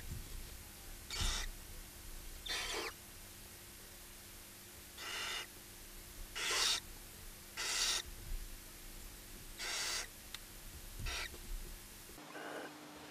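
Barn owls at the nest, where the female tears up prey to feed the chicks. About eight harsh, hissing screeches come at irregular intervals, faint and somewhat distant over a quiet night background.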